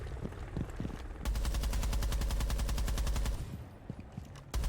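Sustained burst of rapid automatic gunfire in the tactical shooter Rainbow Six Siege, loud and dense for about two seconds, with scattered single shots and game noise before and after.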